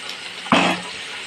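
Tomato and paste hitting a hot pan on high heat, a sudden loud sizzling burst that flares up and then eases into a softer hiss, close by.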